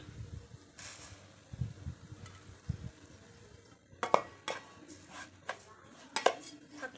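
Sugar is stirred into bottle gourd payasam in a metal pot with a spoon, giving a series of irregular scraping clinks and knocks against the pot over a low background hum.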